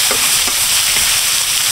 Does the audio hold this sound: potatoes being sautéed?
yes